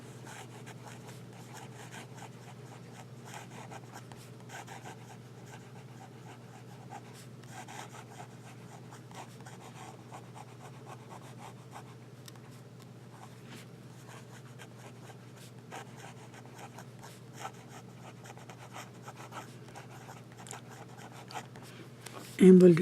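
A Jinhao 599 Safari fountain pen with a slightly wet nib scratches across paper in steady, faint strokes that run close by and almost unbroken, with a brief louder bump at the very end.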